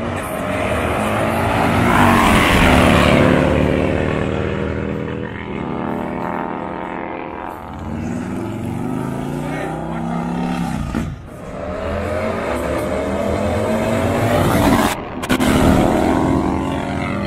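A loud truck engine roars and revs continuously at a Bagger Shootout event, pitch rising and falling with harmonic whine, close by and dominating throughout.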